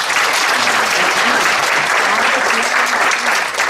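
A large audience bursts into loud, sustained applause to welcome a KBS announcer hosting a seminar session on women and baseball, dense clapping filling the room without a break.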